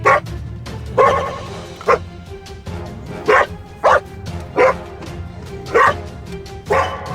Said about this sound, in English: So he's barking because I'm taking off Alfie's jumper.